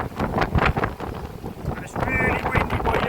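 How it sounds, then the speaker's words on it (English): Strong wind buffets the microphone outdoors at a fishing spot, a steady blustery rumble throughout, with a person talking over it. "And it's really windy by here, I'm getting blown like mad."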